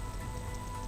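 Steady heavy rain pours down in a village on the edge of the Gir forest in Amreli, a dense, continuous hiss of drops on surfaces with no voices.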